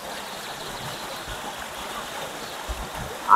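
Steady rushing water of a waterfall beside a cave, a continuous soft wash heard from a moderate distance with no other sounds over it.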